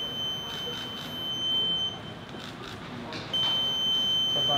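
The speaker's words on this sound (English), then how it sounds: "you have a buzzer for exceeding the speed limit" An electronic speed-limit warning buzzer sounds a sustained, high-pitched tone, cuts out for about a second, then sounds again over low background rumble.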